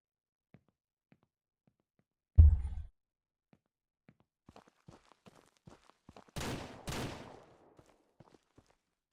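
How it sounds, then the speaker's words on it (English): One abrupt gunshot booms in Ranch Simulator amid near silence, followed by faint scattered ticks and two soft rushing bursts. "Would you stop shooting above it?"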